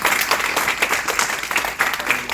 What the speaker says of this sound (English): please all of you give a big cheer to the organizer